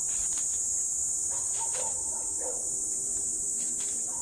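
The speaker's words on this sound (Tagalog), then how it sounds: "sarap pakinggan ng huni ng kuliglig" Crickets chirp outdoors in a steady, continuous high shrill drone that holds unbroken throughout, faint against quiet surroundings.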